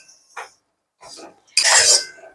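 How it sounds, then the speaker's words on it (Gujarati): A utensil scrapes and clinks against a pan while fresh homemade milk cream is stirred over low heat, giving a few short metallic strokes with gaps between them and a louder scrape at the end. "આને સતત ધીમા ગેસે રાખવાનું અને સતત હલાવતું રહેવાનું"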